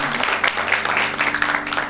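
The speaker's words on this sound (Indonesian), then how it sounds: "kita berikan tepuk tangan buat Pak Guru" Applause for a teacher at a camp, a dense burst of clapping from a crowd close by, loud and continuous, with a low steady hum beneath.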